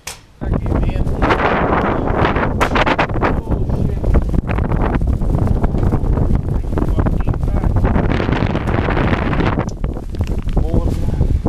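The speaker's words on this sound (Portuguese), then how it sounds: "Que vento" Strong wind blowing at a hostel in Montenegro, loud buffeting gusts roaring into the microphone almost continuously after a brief quiet start, with a person talking at times.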